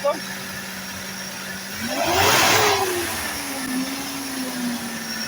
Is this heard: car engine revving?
yes